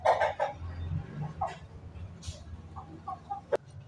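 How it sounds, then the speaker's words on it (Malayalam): A chicken that has slipped out of its coop on a village farm clucks in short, close bursts, with brief rustling and faint background noise between the calls. "ഒരു കോഴി എങ്ങനെയോ ചാടി പോന്നിട്ടുണ്ട് കൂട്ടീന്ന്."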